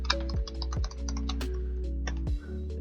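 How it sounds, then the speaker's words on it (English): Fast bursts of keystrokes clatter on a computer keyboard, close and fairly quiet, with short pauses between runs of taps and a low hum beneath. "I'll type his name in chat right now."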